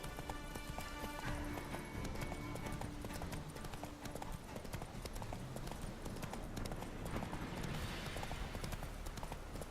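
Roach the horse galloping in The Witcher 3, with rapid, steady hoofbeats drumming close and loud throughout over dense game ambience, and a brief voice partway through.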